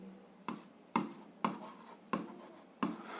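A pen scratches across paper while someone works through a 7th-grade algebra exercise, giving five short, close, scratchy strokes at an even rhythm with quiet gaps between them.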